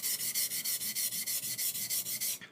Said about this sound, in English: You can notice that I'm using the stone all the way from total length by using it diagonally like this.